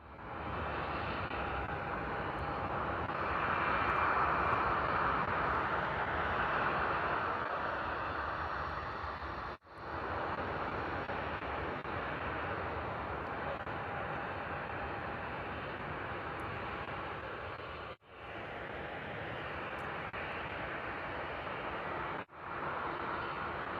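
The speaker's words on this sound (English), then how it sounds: "Beautiful departure there from the EasyJet A320 that was heading out to Verona" An EasyJet Airbus A320 departs Bristol Airport, its jet roar a steady broad rush that swells early and holds loud for over twenty seconds, with a faint whine riding on top and a few brief dropouts.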